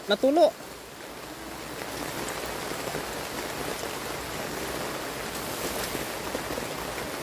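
Rainwater drips and patters steadily in a soft, continuous wash at moderate distance, following a short burst of voices at the very start.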